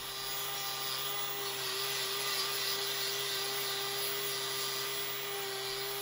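Power grinder trimming the hoof horn of a bull held in a crush, a loud continuous high-pitched whine with a steady tone throughout, close up and with no voices.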